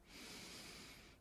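A single slow, deep breath, audible as a soft, breathy hiss that swells and fades over about a second, close and quiet, with no talking.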